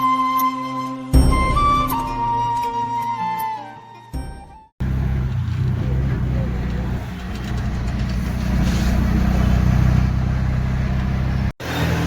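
An auto rickshaw rumbles along a road near Lonavala, its engine a loud, steady drone after a short stretch of tonal sound, with a brief break near the end.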